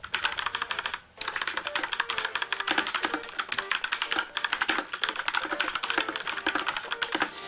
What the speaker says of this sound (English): Here is the typing sound test.